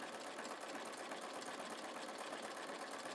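A sewing machine stitching with a wing needle runs in a steady, fast mechanical whir with rapid needle chatter, continuous and close throughout.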